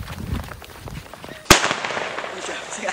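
A Roman candle firework is lit at night: a quiet fizzing stretch, then one sharp loud pop as the first shot fires, followed by a crackling hiss, with voices chattering around it.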